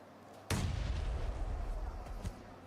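Grenade blast during a PUBG Mobile esports match, one sudden heavy boom with a rumbling tail and a fainter second thud shortly after.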